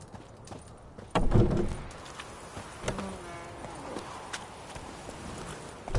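Roach the horse in The Witcher 3 video game, soft clip-clop hoofbeats of a galloping horse mixed with ambient outdoor game sounds and a louder thud near the start.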